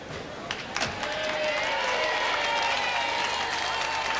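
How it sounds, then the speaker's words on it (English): A large crowd outside the London Palladium waits in the street for Prince Philip, with scattered clapping and a sharp bang building into sustained applause and crowd murmur that holds steady to the end. "there's a large crowd already gathered in the street to await the arrival of the guest of honour"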